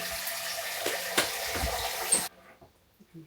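Tap water runs steadily into a kitchen sink as a dish is put to soak while breakfast is cooked at a B&B, then the flow cuts off abruptly, leaving a few faint clinks.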